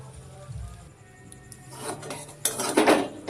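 Vegetable Maggi noodles are stirred in a pan with a metal utensil, producing close clinks and scraping rubs against the pan that grow louder and busier toward the end.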